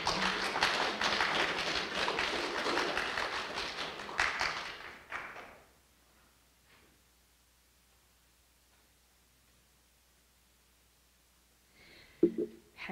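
A church congregation at a Sunday service applauds for about five seconds, a dense, fairly loud burst of clapping that fades into near silence, followed by a faint brief knock near the end.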